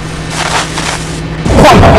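An explosion in the video game Postal 2 bursts in loud and close, following a low hum and muffled game sounds.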